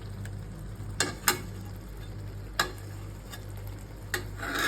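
Bengali rui kalia fish curry cooks on low heat, a soft continuous sizzle with a few sharp clicks and taps of a utensil against the pan, no voices.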